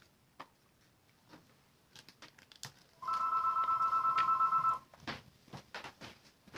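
A telephone rings indoors during a card-stamping session, giving a steady electronic trill of rapid repeated pulses lasting under two seconds, moderately loud, with light crafting clicks and handling noise before and after.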